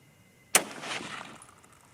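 A single sharp rifle shot from a .30-06 Springfield firing 165-grain Sierra GameKing bullets, a loud crack followed by a short outdoor echo decaying over about a second.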